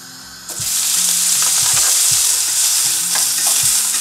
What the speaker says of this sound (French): On va cuire la viande vite fait.